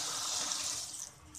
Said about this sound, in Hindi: चावलों को छन्ने में छान लेंगे